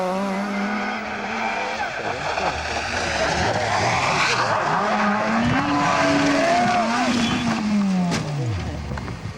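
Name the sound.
Vauxhall rally car clipping grass, hitting bank and rolling over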